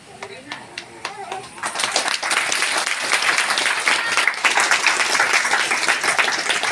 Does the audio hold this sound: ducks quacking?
no